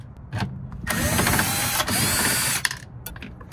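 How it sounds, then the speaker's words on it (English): A power driver whirs and ratchets to remove the belt cover screws on a Whirlpool top-load washer, with one loud sustained run and short clicking bursts close by. "Remove the belt cover held in by two 5/16 screws."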